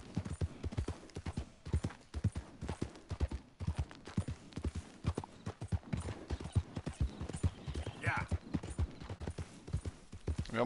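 Horse hooves clip-clop at a steady walking rhythm, close and distinct, with a faint snort partway through, in the video game Red Dead Redemption 2.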